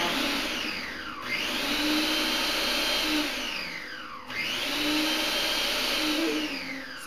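A food processor pulses mushrooms for duxelles in two bursts, its motor whirring up to a steady roar and winding down between pulses, close and loud with no voices.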